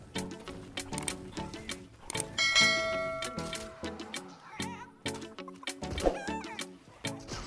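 A chicken clucking inside the video game Fortnite, with repeated short clucks mixed with game effects and chimes in a busy, rhythmic sequence.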